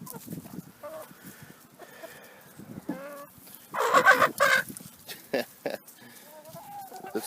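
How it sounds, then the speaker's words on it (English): Chocolate and lavender Orpington chickens cluck on a farm, with scattered soft clucks and murmurs and a louder, busier burst of clucking in the middle. "These are chocolate Orpingtons."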